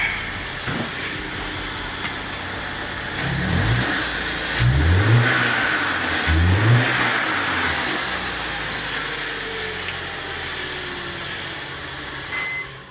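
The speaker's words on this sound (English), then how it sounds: "Just gonna give her a old rev test." BMW 318i engine in a rev test after a serpentine belt replacement, idling steadily, then blipped up in three quick rising revs before settling back to a smooth idle, heard close with no talking.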